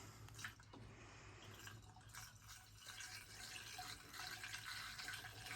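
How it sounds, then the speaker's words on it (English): Coolant pours into a generator being repaired, a faint continuous trickle and splash of liquid that builds slightly toward the end, with no speech. "So, coolant's going in."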